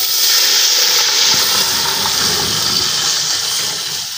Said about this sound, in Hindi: 2 किलो पानी है जी, अब इसको डाल देते हैं